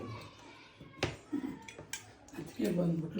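Plates are set out for a meal with a few light clinks and clatters of dishes close by, while children's voices and speech carry on in the room.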